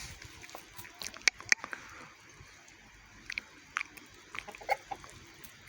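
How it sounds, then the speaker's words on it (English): Soft chicken clucks scattered over a quiet outdoor background near quarries at Stoke Saint Michael, with a few sharper peeps and brief scratchy sounds; no crowing. "Hey, you're a rooster, aren't you?"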